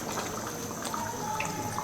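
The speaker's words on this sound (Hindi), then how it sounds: "अब इसमें पानी डालेंगे।" Water pouring steadily into a pot of fried beef paya. It makes a continuous, close splashing rush with no talking.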